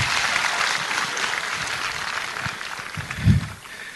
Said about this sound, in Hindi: थोड़ा तालियां और सुन लो